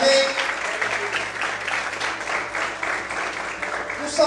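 A church congregation applauds together during a worship service, a dense, steady wash of clapping that holds at an even level throughout.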